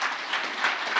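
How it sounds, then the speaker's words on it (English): A startup pitch night audience gives a short burst of steady, dense applause, heard briefly and at moderate volume. "Round of applause, please."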